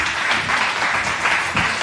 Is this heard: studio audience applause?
yes